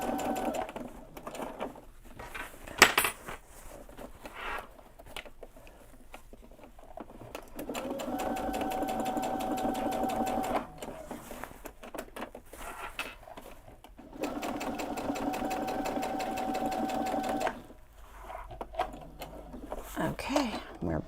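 A sewing machine runs basting stitches through a backpack in bursts of steady whirring, stopping and starting several times with quieter handling noises and brief clicks between runs.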